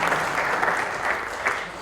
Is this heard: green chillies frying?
no